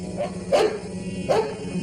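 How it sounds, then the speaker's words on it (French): A dog barks twice, moderately close, two short sharp yelps about three-quarters of a second apart over a steady indoor background hum. "Emmenez votre chien, faites-le partir."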